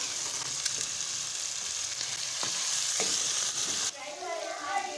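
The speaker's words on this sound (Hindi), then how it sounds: "मटर डाल के हमने इसको फ्राई कर लिया।" Green peas frying with chicken in a pan for Chinese rice, a steady close sizzle with stirring scrapes and clinks, the hiss dropping and turning softer near the end.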